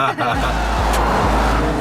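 A car drives on a track with a loud, steady engine roar close by and a low rumbling drone throughout, mixed with some background voices.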